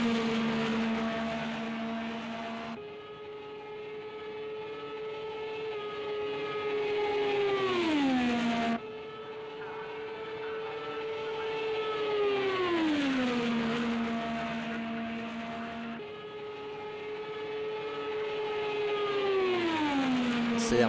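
IndyCar race car in a video game Indianapolis 500 qualifying flying lap, its engine screaming at high revs with repeated falling pitch sweeps as it shifts and lifts, then climbing again, loud and continuous.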